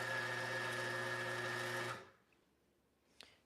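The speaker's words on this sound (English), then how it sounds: "I'm going to switch my grinder over here" An Atom W75 coffee grinder grinds beans with a steady, high-pitched motor whine that stops abruptly after about two seconds, followed by near silence and a faint click.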